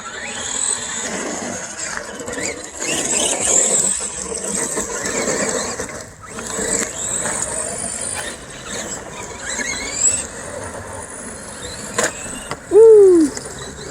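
Brushed electric motors of Rival MT10 and Arrma Granite Mega 4x4 RC monster trucks racing, giving a continuous buzzing whine with rising squeals and surges that change as the trucks accelerate, ending with a sharp squealing sweep.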